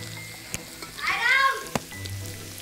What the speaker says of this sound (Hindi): तो फ्रेंड्स अभी भी आलू यहाँ पर फ्राई हो रहे हैं तेल में